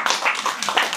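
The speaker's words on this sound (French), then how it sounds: "On peut t'applaudir encore une fois." A small show audience gives magician Laurent a short burst of clapping, a brief, fairly close patter of hands lasting about a second.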